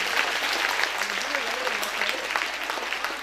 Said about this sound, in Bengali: সেই মিষ্টি করতালির আওয়াজটা যেন পাই।